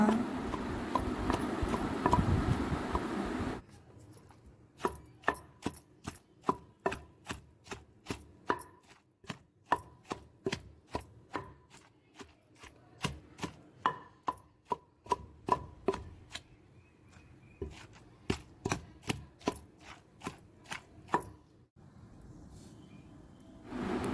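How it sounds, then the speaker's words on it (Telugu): Grated raw mango being pounded into a chutney with a stone mortar and pestle: steady, repeated dull thuds in a regular rhythm, close and fairly loud, after a few seconds of rough grinding at the start. "మామిడికాయ తురుము కూడా వేసి నీట్గా బాగా దంచుకున్నాం"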